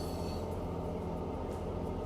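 Train in Train Mechanic Simulator 2017 runs on the line, giving a steady low rumble with rhythmic wheel clatter, continuous and fairly quiet throughout.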